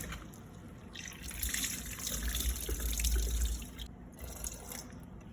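Tap water runs and splashes over sliced plantain in a bowl during rinsing, a steady near trickle that swells louder in the middle and briefly dips before resuming.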